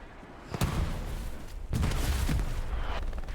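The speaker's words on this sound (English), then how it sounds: "Explosion there on the left." Video game explosions from a seasonal tournament match come as two sharp booming blasts with a burst of crackling rumble after each, fairly loud against a busy background.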